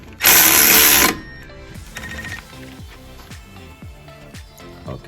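A socket ratchet ticks close by in short, uneven bursts while snugging down the strut knuckle bolts on a 2006 Mercury Mariner, after a loud one-second burst of broadband noise at the start.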